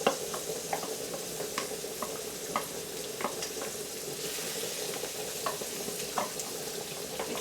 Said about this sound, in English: So now we're going to add the 7 cloves of diced, finely chopped garlic.